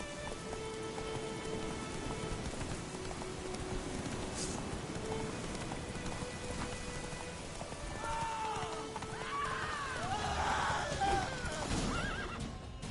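Roach the horse from The Witcher 3 neighs and whinnies in repeated calls toward the end, with hoof clip-clop under a steady wash of rain.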